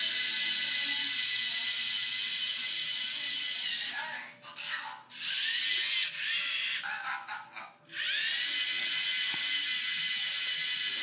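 Continuous high motorized whir of a LEGO EV3 wheeled robot driving across carpet, dipping and changing pitch a few times in the middle as it moves, close and loud.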